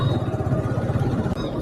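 A motorcycle that sat unused at home for a long time idles nearby, its engine running with a steady low rhythmic thrum and light clatter.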